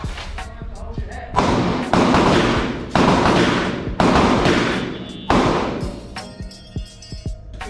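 Gunshots ring out at a firearms training range, five loud sharp reports roughly a second apart, each with a long decaying echo, with more distant shots and faint range noise afterward.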